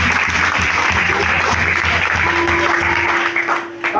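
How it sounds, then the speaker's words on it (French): A church congregation bursts into sustained applause, a dense steady clapping that fills the room and tapers slightly at the end, with some voices underneath. "applaudissez l'esprit pour Dieu encore"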